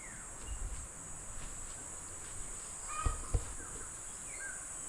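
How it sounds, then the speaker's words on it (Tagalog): A crow caws a couple of times at moderate distance near papaya and rambutan trees, brief calls rising over a steady outdoor backdrop of insects and crickets. "itong uwak po yan o oh."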